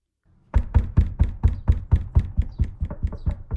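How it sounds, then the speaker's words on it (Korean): Knocking on a door, staged as an audio drama effect: a rapid, insistent run of about fifteen loud, close knocks in an even rhythm, alone without voices. "문 밖에 있는 알렌이 문을 두드리며 말했다"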